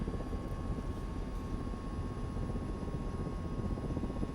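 A simulated Mi-17 helicopter lifts off from a pad in Microsoft Flight Simulator, a loud, steady rotor and turbine drone with an even beating texture and a fixed high whine, no voices.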